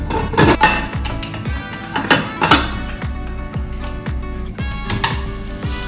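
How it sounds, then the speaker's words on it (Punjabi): Metal clatter of a pressure cooker lid being fitted onto a cooker holding potatoes and water on a home kitchen counter, a run of clinks and knocks with a few sharper bangs, close and fairly loud, with no talking. "ਹੁਣ ਇਸ ਦਾ ਚੰਗੀ ਤਰ੍ਹਾਂ ਢੱਕਣ ਲਗਾ ਦਾਂਗੇ"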